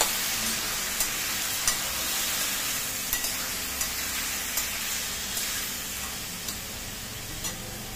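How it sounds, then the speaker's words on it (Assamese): Soaked lentils and vegetables sizzle steadily in a pan with light scraping and clinking as they are stirred, a constant close frying hiss with regular spoon taps throughout. "দি গোটেইখিনি আকৌ অলপ লৰাই দিছো"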